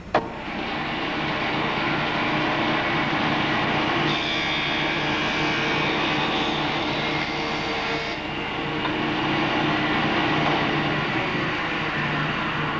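A woodworking jointer machine runs with its dust suction system switched off, giving a continuous loud whirring drone with broadband rushing noise that holds steady throughout, without any talking.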